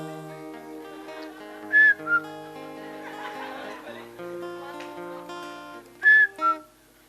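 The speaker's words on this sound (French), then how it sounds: "si c'est un sifflement rythmé, avec une cadence précise" Rhythmic whistling with a precise cadence, short sharp bursts repeated in a pattern over a sustained tonal background, fairly loud and close.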